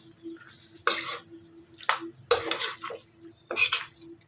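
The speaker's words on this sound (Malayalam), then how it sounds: "ഇനി ഇത് നന്നായിട്ട് ഇളക്കി കൊടുക്കാം" A spoon scrapes and clatters against a pot of biryani in a few separate bursts, close and fairly quiet, with a low steady hum underneath.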